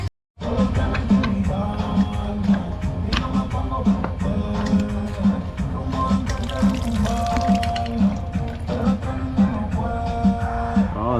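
Radiator coolant and antifreeze drain from a Kawasaki KFX 400 quad in a continuous splashing pour with dripping and trickling over roughly eleven seconds, loud and close, starting abruptly after a brief silence.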